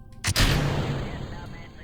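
Rocket stage separation explosions in Kerbal Space Program, a sharp loud blast followed by a booming burst that decays into a long rumbling tail.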